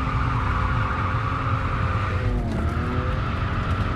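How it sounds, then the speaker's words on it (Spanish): A drift car on a circuit, its engine held high around 6,000 rpm, roaring continuously and loud, with tire squeal and skidding noise rising in the middle of the pass. "La verdad que el motor va todo el rato arriba"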